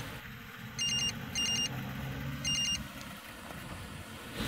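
A mobile phone rings in three short bursts of electronic trilling, with a car engine rumbling steadily underneath.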